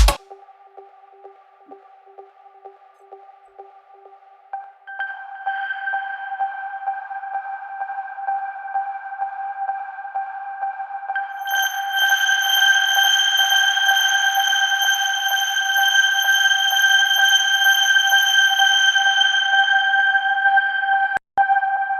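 A synth harp preset in a minimal melodic techno track holds bright, sustained high tones that layer up over time, adding a still higher shimmering layer partway through before ending abruptly.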